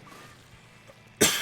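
A single sharp cough bursts out near the end after a stretch of quiet room tone, close and loud, with no talking around it.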